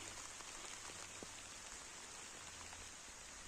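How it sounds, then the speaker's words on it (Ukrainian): Soft, steady rain pattering on a surface, quiet and continuous with faint individual drops. "Ой, а дощ перепускає. Чуєте, лопотить як?"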